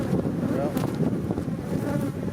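Africanized Texas honeybees swarming around an opened hive during a split, a steady dense buzz filling the air with some wind rumble and a faint voice underneath.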